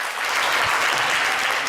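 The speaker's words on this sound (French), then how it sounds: "Alors, on va l'applaudir." A studio audience at a televised finale applauds as a guest is welcomed, a continuous thick burst of clapping that stays loud and even throughout.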